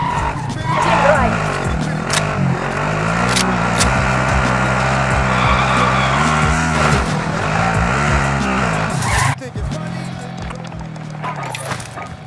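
Car engine revving and driving in Call of Duty: Modern Warfare, a steady loud drone with shifting pitch, sharp tire-skid squeals cutting in, and game voice lines running over it.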